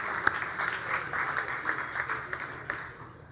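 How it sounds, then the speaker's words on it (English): An audience at a brewing talk event breaks into a warm round of applause, steady clapping with a few sharp individual claps standing out, fading slightly toward the end. "So big round of applause for doing that"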